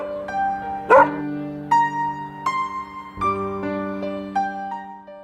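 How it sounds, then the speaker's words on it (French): A house dog barks in greeting at newcomers arriving at the home, a run of several loud, close yaps and bow-wows spaced irregularly over about five seconds, with some whimpering tones between. "Leur chien Péros souhaite la bienvenue à sa façon aux nouveaux venus"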